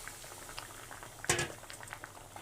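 Water poured into a simmering potato curry (aloo dum) in a home kitchen brings a steady low bubbling, with one brief louder splash and stir clink in the middle, no talking.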